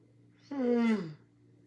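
A single drawn-out yawn, close and fairly quiet, rising and then falling over about a second in an otherwise quiet room.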